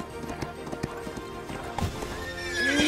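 A horse on a cross country course: a steady clip-clop of hooves at a gallop, fairly close, with a whinny toward the end and faint background sound.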